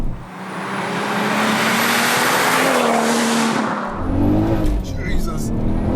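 A 462bhp turbocharged Golf R32 accelerates hard with a loud, rising engine roar through several gears, joined by a brief tyre-squeal-like whine before the pitch drops and climbs again.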